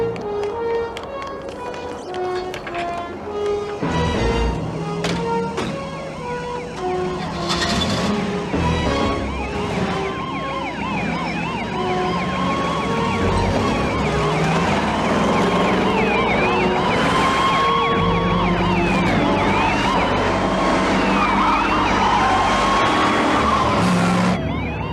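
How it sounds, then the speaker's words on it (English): Ambulance and police car sirens wail loudly and steadily, their rising and falling tones layered over each other and growing in strength as the emergency vehicles draw near. "The ambulance, police, and backup units are on their way."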